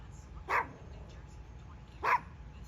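A dog barks twice in a room, two short, separate, moderately loud barks about a second and a half apart over a low background hum.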